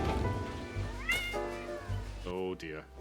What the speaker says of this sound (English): Oh, I hear freaky cats again.